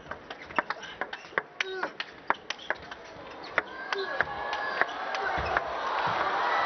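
Crowd cheering at a professional men's singles table tennis match, a rising swell of cheers and applause following a rally of sharp, regular ball clicks on the paddle and table, with commentary spoken over it.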